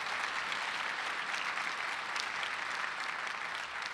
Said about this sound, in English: Let's give Ryan and OBA a big round